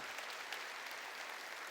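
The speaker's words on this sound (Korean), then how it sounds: "박수로 하나님께 영광 돌려가지고" A church congregation applauds to give glory to God during a sermon, a continuous, even roar of clapping from many people, somewhat distant and without a break.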